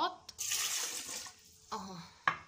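Two cups of water are poured into a blender in a kitchen while a green detox drink is made, giving a soft, splashy pour that lasts about a second, followed by a brief clunk and a faint second splash.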